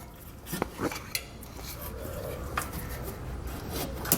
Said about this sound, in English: So I'm just going to use a scraper to get that tape removed.